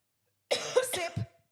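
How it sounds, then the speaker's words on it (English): A lingering cough from an adult with whooping cough: one short, harsh burst followed by a throaty tail, then a brief second onset, close and fairly loud against silence. "The lingering whooping cough."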